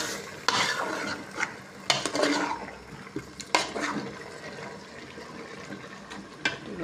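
Pabda fish fries in a pan as it is stirred and sautéed, giving intermittent scraping clatters over a soft, steady sizzle, close by and without speech.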